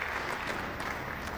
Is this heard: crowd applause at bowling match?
yes